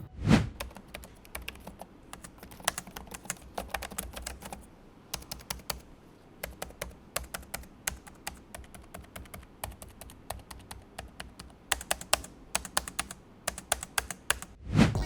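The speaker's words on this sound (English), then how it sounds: "Here's a little keyboard test for your reference" Steady typing on an Asus Vivobook Pro 16X OLED laptop keyboard, quick bursts of light key clicks with short pauses and a couple of heavier taps at the start and end.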